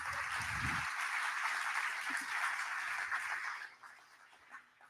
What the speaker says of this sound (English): One more round of applause for our first few speakers.